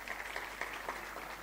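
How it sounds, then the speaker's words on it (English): Scattered applause at a university ceremony, a light patter of hands clapping softly in a room for a brief moment. "Guys, please clap for your peers."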